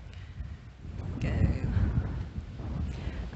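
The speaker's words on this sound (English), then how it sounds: "It's really windy." Low rumbling gusts of wind buffet the microphone at a canal marina, swelling and easing over a few seconds, with a voice faintly present beneath.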